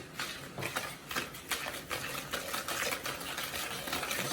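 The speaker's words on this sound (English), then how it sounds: "Whisk this up real quick." Chocolate chip cookie batter whisked by hand in a bowl, a steady rapid scraping and clicking rhythm that runs throughout at close range with no talk.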